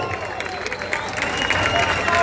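A concert crowd at a rock show in Plaza Bicentenario, Valencia, applauds and cheers in a dense, steady roar of clapping and voices that swells slightly toward the end.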